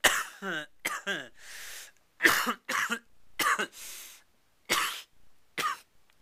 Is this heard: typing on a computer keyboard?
no